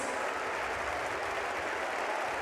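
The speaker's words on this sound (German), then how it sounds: "Euren Applaus." Steady applause from a live audience at a farewell ceremony, dense continuous clapping throughout with no voices on top.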